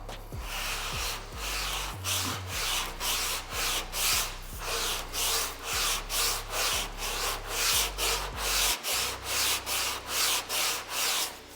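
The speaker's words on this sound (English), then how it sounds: "I'll get the shape of it down with our 80 grit" Rhythmic back-and-forth strokes of 80 grit sandpaper shaping body filler on a totaled Final Edition Evo, a steady series of close, loud rasping passes with no speech.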